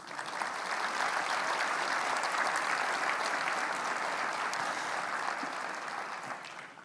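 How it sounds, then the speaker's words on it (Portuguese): A church congregation applauds steadily in a worship hall, a dense, even wash of many hands clapping at moderate distance, sustained throughout before easing slightly at the close. "queria que a gente pudesse dar um aplauso à nossa família, a família de Deus"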